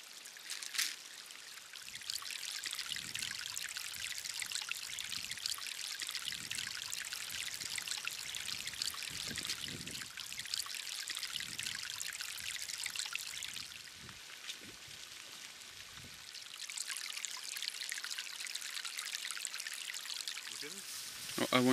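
Steady rain hisses down in a continuous, even wash on a remote tabletop mountain, with faint patters and intermittent low thumps beneath it, and no one talking.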